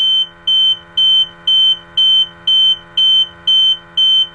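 An Eagle HF gas monitor sounds its alarm buzzer during a bump test, a loud, piercing electronic tone pulsing on and off about twice a second in a steady, even rhythm, with no talking.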